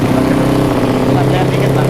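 Contest-modified Yamaha Jupiter-style underbone motorcycle engine idling loudly and steadily up close, a strong low throbbing hum with buzzy overtones and no speech over it.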